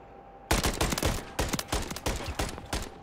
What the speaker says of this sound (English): that guy is shooting bro